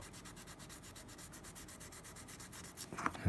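Fine-grit sandpaper rubs across the bite area of a saxophone mouthpiece in quick, even back-and-forth strokes, a soft, close scratchy rasp repeating steadily, ending with a slight knock.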